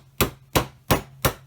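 A hammer taps a punch to drive the pin out of a Mosin Nagant rifle: four sharp, evenly spaced metallic strikes, close and clear, with a faint hum between them and no talk.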